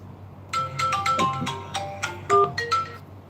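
A mobile phone plays a melodic ringtone during a live religious broadcast, a run of bright electronic notes lasting a few seconds, fairly loud and close, with no talking over it.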